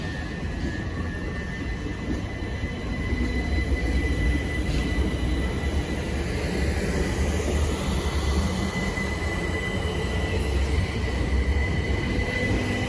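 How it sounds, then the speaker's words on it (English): A Southern commuter train, the 1352 service to London Bridge, pulls away from a London station, giving a steady, loud rumble of wheels on rail with a whining tone that builds slightly and holds throughout, with no talk. "departing now is the 1352 Southern service to London Bridge"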